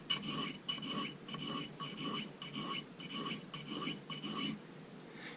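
A steel blade edge is drawn across a soft Arkansas sharpening stone in a regular series of close rasping strokes, roughly two per second, alone without talk.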